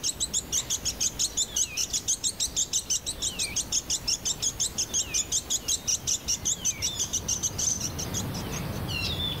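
A Bonin white-eye on the Ogasawara Islands calls loudly and insistently, a rapid run of bright, high chirps repeated steadily and close to the listener, with a brief pause near the end.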